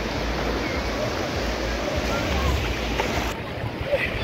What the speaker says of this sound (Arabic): ها هو البحر قدامنا